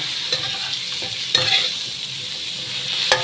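Stirring of a long eggplant dish in a sizzling pan, with a steady fry hiss and a few sharp scrapes of the spatula, close and without talk.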